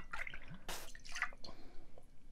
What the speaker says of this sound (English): And then we're gonna put our gin in.